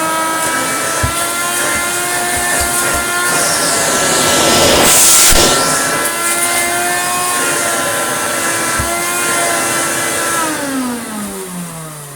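A Hoover Turbomaster Total System U5094 vacuum cleaner runs loudly with steady motor whine and rushing air through the hose tool, its pitch dipping near the end.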